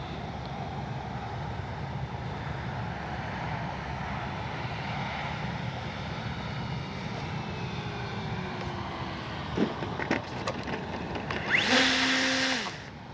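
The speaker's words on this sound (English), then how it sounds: "I want to go around. I'm going to do a no flap landing this time." A small FMS radio-controlled model airplane's electric motor hums steadily at a distance through a go-around and landing approach, with a louder, rising whine near the end as the plane passes closer; no talking.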